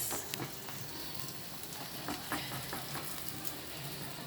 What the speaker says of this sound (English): I'm done with the frying of fresh Manchurias.